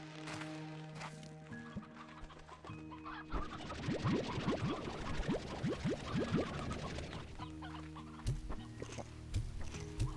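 Chickens cluck in the video game Slime Rancher, a flurry of repeated bird clucks rising over steady game music and ambience, busiest through the middle and fading toward the end.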